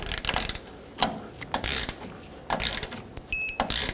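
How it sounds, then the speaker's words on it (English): A torque wrench tightening the rear shock absorber bolts on a 1995-2004 Toyota Tacoma gives bursts of close ratcheting clicks, ending in a brief bright metallic ring. "now let's torque them"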